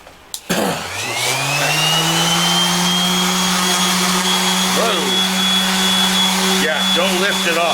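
A power buffer works a guitar's finish during a kit build. Its motor spins up quickly into a loud, steady whine that holds at pitch, with a couple of brief dips in tone.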